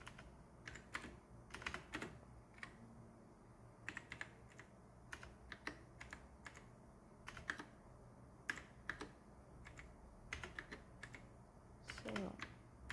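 Fast, light key clicks on a slightly faulty computer keyboard, close but soft, in uneven bursts over a quiet room hiss, with faint talk now and then.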